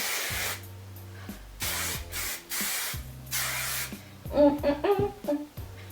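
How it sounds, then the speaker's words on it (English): Several hissing bursts of hairspray sprayed onto curls, close and fairly loud, separated by short pauses, with a few softer rustling and scrunching sounds toward the end. "This is genuinely the best hairspray I've ever used in my life"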